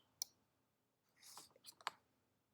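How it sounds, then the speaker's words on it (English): A computer mouse clicking in a quiet room, one sharp click then a short burst of faint rustling and two more clicks, close and soft. "so I click on plus"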